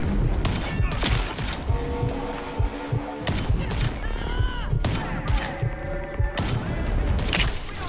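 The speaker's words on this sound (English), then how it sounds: "they are just shooting at the trader" Dense Rage 2 gunfire fills the scene, repeated bursts and booming shots mixed with impacts and whooshing effects over a constant loud game backdrop.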